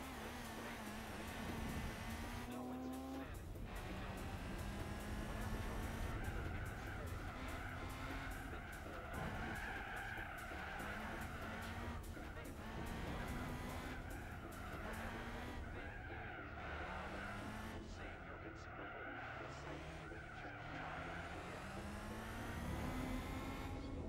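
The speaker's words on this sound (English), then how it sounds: "It's drifted and understeered into the gravel." A racing car in Gran Turismo 4 drifts and understeers into gravel, with continuous tire squeal and skidding layered over a loud revving engine whose pitch rises and falls, lasting throughout without talk.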